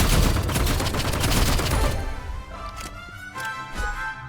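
Gunfire in the video game Rivals: a dense burst of rapid automatic shots for about two seconds, then a few spaced single shots with ringing tails, loud and close.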